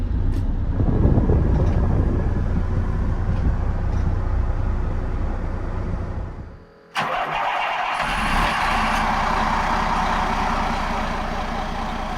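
A 2007 Monaco Dynasty 43 Palace III motorhome on a semi-monocoque chassis: a deep running engine rumble drops out briefly, then the engine restarts and settles into a steady, louder mid-pitched drone.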